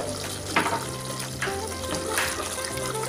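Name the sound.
spaghetti sauce being stirred while cooking in pan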